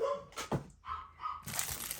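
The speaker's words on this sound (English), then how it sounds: "I'm so sorry for the dogs, guys." Several dogs barking and yipping indoors in short bursts a little way off, with a bit of whimpering between the barks, while the room stays quiet around them.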